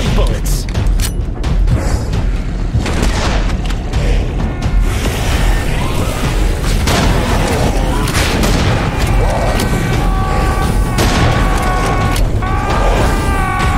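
Gunfire in Serious Sam 4 comes as dense, loud, continuous bursts of shots and heavy booms with mechanical clanks, layered under a voice that talks throughout.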